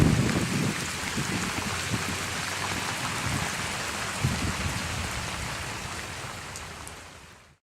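Heavy rain pours down in stormy weather at a carp fishing lake in Hungary, a dense, steady hiss with low rumbling underneath, fading out at the end.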